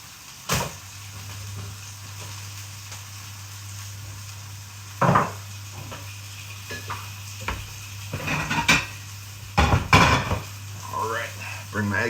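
An English breakfast of mushrooms, tomatoes and toast frying in a pan, with a steady low sizzle under repeated scrapes and clatters of a utensil as the food is flipped and moved, louder clusters coming toward the end.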